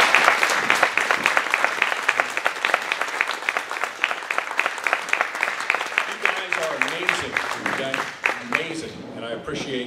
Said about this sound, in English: I would like all of the coaches in this room, please, right now, to stand for a round of applause